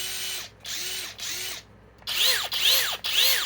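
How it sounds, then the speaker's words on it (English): A Flex impact driver and a compact 3/8-inch Flex impact wrench, both set to high speed, run in four loud, close bursts of about half a second each with short pauses between them. The last three bursts are louder. "the best impact driver Flex makes against this new compact impact wrench in 3/8"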